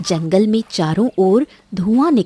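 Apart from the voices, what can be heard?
No distinct noise like a dog, phone or traffic.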